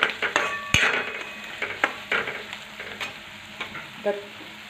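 Red chili powder fries in oil in a pan for a chickpea sprout curry, with a soft sizzle under repeated scraping and stirring strokes of a spoon against the metal, close by and irregular.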